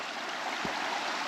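Steady broadband rushing of the river Ore meeting a small creek in the Luxembourg countryside, a continuous even flow with a soft low thump partway through.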